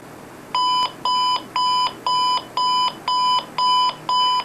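Loud electronic alarm from an RCA RC220-B clock radio beeping in a steady pattern, eight even high-pitched beeps with short gaps between them, close and unattended by any voice.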